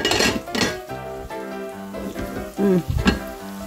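Soy sauce hits melted butter in a pan with a soft sizzle, mixed with clinks and scrapes of a utensil against the pan in a close, busy kitchen.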